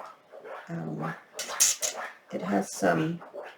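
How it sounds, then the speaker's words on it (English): A dog whimpers and whines in short bursts with scratching and scraping sounds between them as it digs in its crate, recorded close. "that's the dog if you can hear it"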